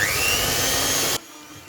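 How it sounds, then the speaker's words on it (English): A hand mixer running at its lowest speed through cream cheese gives a steady, close motor whir with a rising whine, then cuts off abruptly and leaves a faint hum. "you just have to use the lowest speed you can on your hand mixer to mix this all up"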